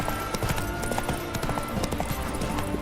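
Horse hooves gallop in The Witcher 3 video game, a fast, steady clip-clop rhythm heard loud and continuous throughout, with no talk over it.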